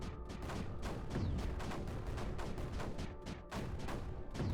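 Mortars fire again and again in the strategy game Creeper World 4, a dense run of repeated booming shots close together with no talking over them.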